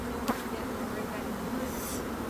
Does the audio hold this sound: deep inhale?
no